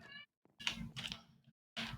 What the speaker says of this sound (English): She's meowing now.